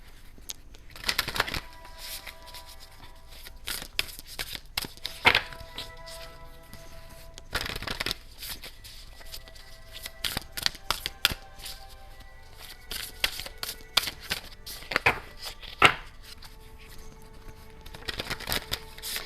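Tarot cards shuffled by hand, heard close up as bursts of riffling and flicking that come in irregular clusters and pauses over about twenty seconds, with faint background sound between the bursts.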